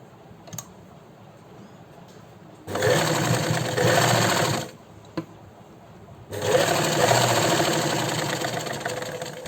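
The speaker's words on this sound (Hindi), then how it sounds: "अब हम यहाँ से घुमाते हुए इसको एक पैर की सीम और लगा देंगे।" A sewing machine stitching a seam on a sleeve with piping runs in two loud, steady whirring bursts of a couple of seconds each. Quiet pauses with faint clicks separate them, and the machine sounds close.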